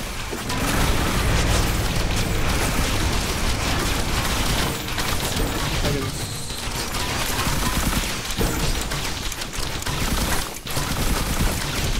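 Dense fireworks bursts in the video game Risk of Rain Returns, a continuous loud barrage of booms, crackles and pops layered with game effects, no pause across the stretch.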